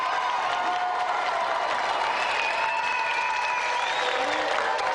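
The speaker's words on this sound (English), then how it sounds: "Another round of applause for David Finch." Sustained applause from a large audience, dense steady clapping throughout with a few faint cheers mixed in.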